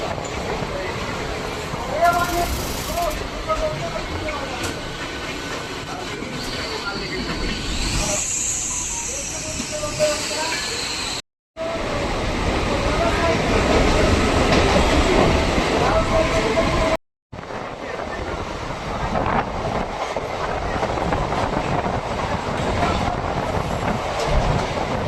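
The Howrah–Jodhpur Superfast Express runs past close by, a loud, steady rumble of rolling rail wagons with hiss and clatter. The sound continues for the whole stretch apart from two brief dropouts.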